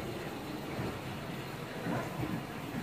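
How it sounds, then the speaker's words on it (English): Steady low rumble of a train rolling by close, a continuous broadband roar that swells slightly near the end, with no voices. "It's a train."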